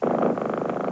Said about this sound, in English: Now that's the sound of a healthy cat.